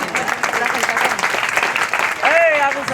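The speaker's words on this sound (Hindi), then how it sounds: "आदरणीय जय कृष्ण बाबू के लिए आप लोग तालियों से स्वागत करें।" An audience at a Bira Ghat fair Sanskrit program claps to welcome Jai Krishna Babu, a dense crowd applause that carries on steadily while a voice rises over it near the end.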